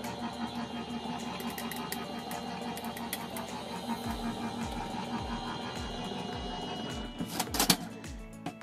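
An Empress die-cutting and embossing machine runs in a steady mechanical whir for several seconds, with faint clicks and a series of low thumps toward the end as it works through an embossing folder.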